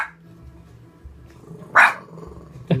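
A bulldog barks near an elephant orphanage in Nairobi, two sharp, loud single barks a second apart over quiet background rumble.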